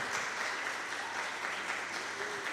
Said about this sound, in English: Give a big applause as well.